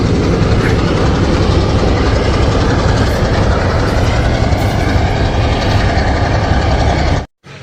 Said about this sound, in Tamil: இந்த இப்போ தான் ட்ரெயின் போயிட்டு